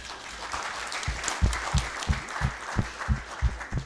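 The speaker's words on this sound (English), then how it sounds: "let's give a round of applause" An audience claps, with steady rhythmic beats standing out over a broader wash of applause, fairly close.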